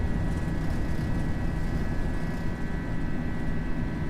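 Airbus A320 engines roar at takeoff power in a flight simulator, a steady, loud broadband rumble with a faint high whine held throughout.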